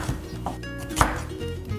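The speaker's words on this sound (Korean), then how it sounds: "양파 손질부터 한번 해볼게요." A knife chops onion on a cutting board in a few close, irregular thuds, one hit landing harder than the rest, with no talking.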